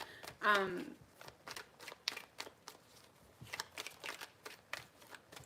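Tarot cards are shuffled by hand in quick riffling bursts and soft flicks, one louder riffle near the start followed by a string of lighter slaps and rustles, close and clear with no talking.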